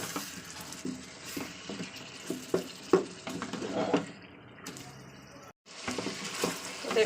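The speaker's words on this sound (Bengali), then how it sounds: "মশলাটাকে ভালো করে তেলের সঙ্গে কষিয়ে নিচ্ছি" Spice paste for chicken kadai stirred in hot oil with chicken and potatoes: steady sizzling under repeated scraping strokes of a spoon against the pan, close and fairly loud, with a brief cut to silence midway.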